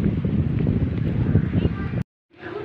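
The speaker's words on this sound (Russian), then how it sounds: "У нас такой сильный ветер поднялся. Сейчас гроза будет." Strong, gusty wind buffets the microphone ahead of a thunderstorm, a loud continuous low roar that cuts out abruptly near the end before resuming more quietly.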